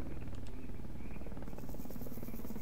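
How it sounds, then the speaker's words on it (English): A helicopter in the video game Call of the Zone thrums as a continuous rotor drone under a steady buzzing game ambience, with a brighter rhythmic chop joining partway through, moderately loud and with no talking. "There's a helicopter."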